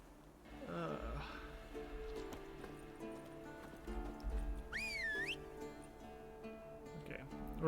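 Roach, a horse in The Witcher 3, heard in-game with hoof clip-clops, a brief whinny and a whistled call amid game music, fairly quiet and mixed with other game sounds.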